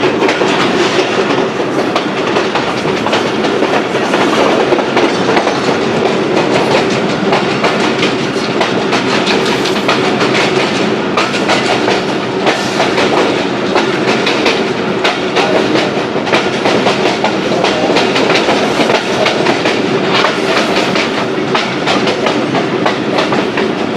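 Sialkot Express 171-Up train running on rails near Kala Khatai station in heavy rain, giving a steady loud rumble with continuous clickety-clack of wheels throughout.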